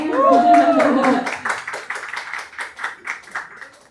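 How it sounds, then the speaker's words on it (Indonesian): Audience claps at a poetry book launch, scattered rhythmic clapping that follows a speaking voice and fades gradually toward the end. "Mana tepuk tangannya?"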